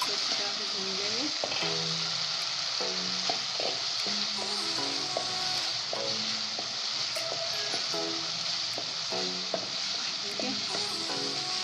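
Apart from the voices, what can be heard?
chicken sizzling while being fried in a pan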